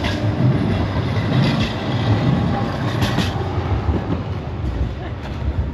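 A tram in Poland rumbles along its rails with a steady low roar, faint clicks and metallic squeaks rising now and then, close and continuous.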